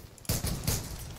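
Gunfire in the online shooter Zula, a quick burst of two or three loud shots after a brief quiet moment, close and sharp with short echoing tails.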